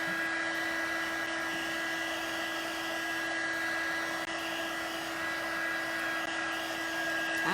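A heat tool blows a steady, loud whirring rush of air with a constant tonal hum as it heats embossing powder on a handmade flower card, unbroken throughout and with no talking.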